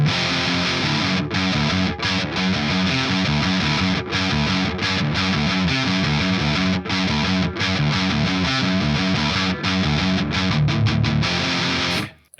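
Heavily distorted electric guitar chugs out a dense, continuous wall of crunchy chords at loud close range, playing steadily for several seconds before cutting off abruptly at the end.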